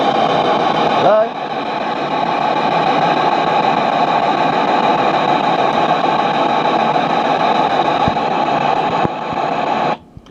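A PSB-7 radio scanner sweeping on FM gives off a loud, steady hiss of white noise that runs nearly unbroken for about nine seconds and then cuts off abruptly.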